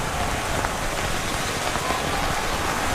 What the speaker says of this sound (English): pretty heavy rain we're looking at.